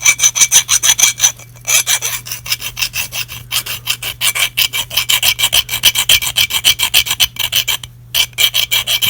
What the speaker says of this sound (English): sand it down for a little bit like this, then you can see the iron coming out as shiny